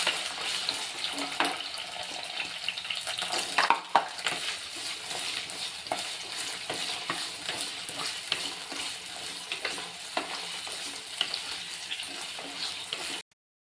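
Ingredients for a roasted-coconut papaya curry being stirred and dry-roasted in a pan, with steady scraping and faint sizzling throughout, a few sharper clinks near the start, no talk.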